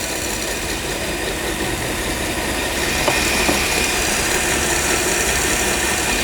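An electric mixer whips egg whites at speed while sugar is poured in for Italian meringue. Its dense, steady whirring drone fills the clip and grows slightly louder partway through, with no talking.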